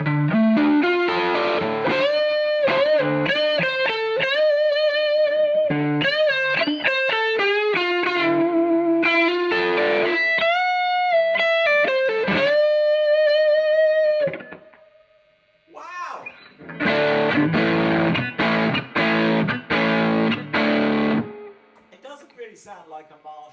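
An electric guitar plays sustained, singing lead lines through an overdriven Carr Skylark tube amp with a little reverb, loud and close with bending notes, a short pause, then chunkier chordal playing.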